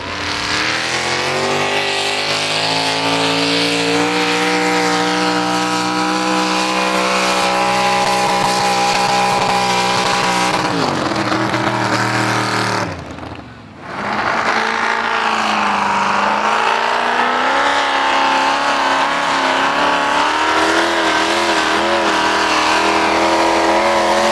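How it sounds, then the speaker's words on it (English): A supercharged big-block engine on a competition pulling tractor roars loudly and steadily at a tractor pull in Tooradin, with a brief throttle lift and dip midway before it climbs back to full, heavy revs. "nothing gets the heart racing more than a big engine with a blower hanging off it"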